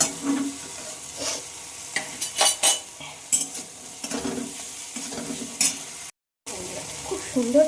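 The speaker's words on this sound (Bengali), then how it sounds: "মশলাটা নেড়ে নেড়ে ভালোভাবে কষিয়ে নিতে হবে" A spice masala fries in oil while being stirred, with repeated scraping strokes of a spoon against the pan over a soft sizzle, the strokes irregular and close, plus a brief dropout near the end.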